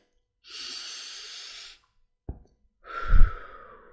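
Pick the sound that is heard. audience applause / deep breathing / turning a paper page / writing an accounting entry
deep breathing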